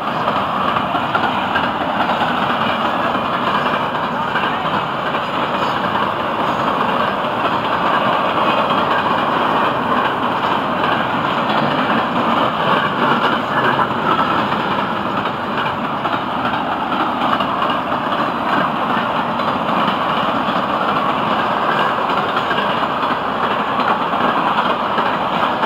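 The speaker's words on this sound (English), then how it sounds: "Beautiful looking train, great looking spot to shoot it." A Florida East Coast freight train with UPS trailer cars rolls past at close range, a steady, loud rumble and rattle of wagons that holds unbroken for the whole stretch, with no talking over it.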